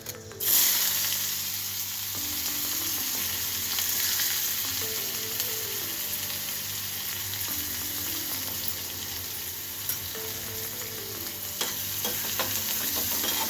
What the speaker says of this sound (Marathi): कांदा परतवून घेत आहे बारीक गॅसवरच